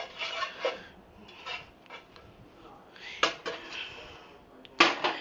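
Spatula scraping and pushing melting butter around a frying pan, a string of soft rasping scrapes with a few sharper clicks against the pan, close and fairly quiet.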